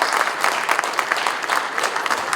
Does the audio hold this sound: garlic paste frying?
no